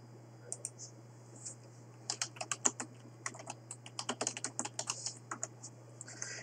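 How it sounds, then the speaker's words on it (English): A noisy wired computer keyboard typed in uneven bursts, sharp clacking keystrokes starting sparse and then coming quickly, close up over a constant low electrical hum. "Yes, you hear my noisy keyboard,"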